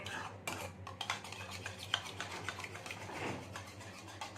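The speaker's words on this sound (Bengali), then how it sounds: "নুন দিয়ে ভালো করে আমি ঘেটে নিচ্ছি এটাকে" Yogurt mixed with salt is stirred in a bowl, giving soft, quiet clinks and light taps of a spoon in an irregular stirring rhythm.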